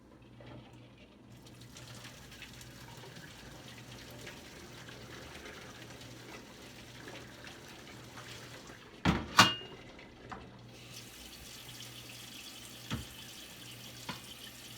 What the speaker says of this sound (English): I'm going to run a little bit of cold with it so that it's not super hot boiling water gushing down the drain